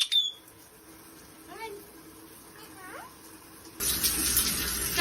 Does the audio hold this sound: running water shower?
yes